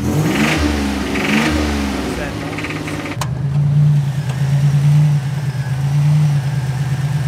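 A Buick Grand National engine with a shake problem revs under boost, then settles into a steady, loud droning run close by, with people talking early on.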